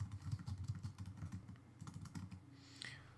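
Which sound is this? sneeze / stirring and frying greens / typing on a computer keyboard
typing on a computer keyboard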